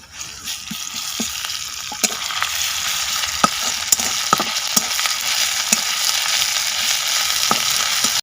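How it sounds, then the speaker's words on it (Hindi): Ginger-garlic paste fries with browned onions in hot oil in a kadai for a village-style fish curry: a constant loud sizzle broken by repeated stirring clicks and scrapes, close by and with no talk. "एबे अदा रसुन पेस्ट को पकई देबा।"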